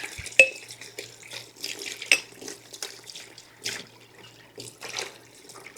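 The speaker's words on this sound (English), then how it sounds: "And I always rinse my green beans." Running water from a kitchen tap splashing over home-canned green beans in a strainer, a steady close-up rush with brief clatters of the beans shifting in the metal basket.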